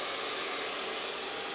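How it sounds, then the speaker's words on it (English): A hair dryer on its hot setting blows on lace glue, a steady close whooshing airflow with a broad, even hiss and no voices. "So now I'm going to go ahead and use this hair dryer."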